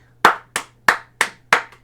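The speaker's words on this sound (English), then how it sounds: "Give him a little clap." A single person claps by hand, six sharp, evenly spaced claps close by, with no talk over them.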